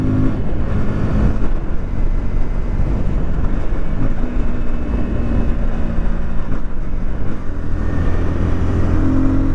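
A KTM Duke 160 motorcycle engine runs steadily while being ridden, a loud continuous drone mixed with road and wind rumble that holds an even level throughout.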